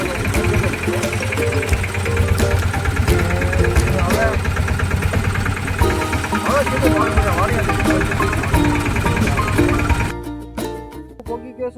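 A tractor engine runs steadily and loud at close range for about ten seconds, a dense mechanical drone with rattling overtones, then cuts back sharply near the end.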